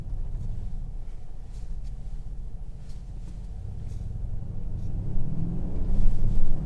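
Inside a Mercedes GLC63 AMG, the engine gives a low, steady rumble that swells toward the end as the car moves off, heard fairly quietly from the cabin.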